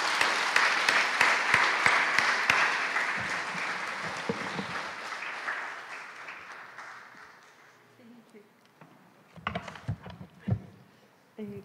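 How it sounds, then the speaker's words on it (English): A church congregation at a Sunday service claps to welcome Leticia before her testimony and song. Loud, rhythmic clapping starts strong, fades over several seconds, and is followed by quiet shuffling and a few thumps and nearby voices. "Let's welcome her with a clap."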